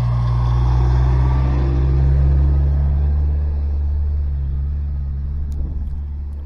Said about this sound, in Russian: Машина что-то еле-еле едет.